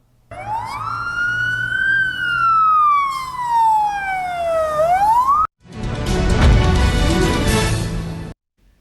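An emergency vehicle siren wails loud and close in long, slow rising and falling sweeps, then cuts off abruptly and gives way to a dense, rumbling roar of street noise.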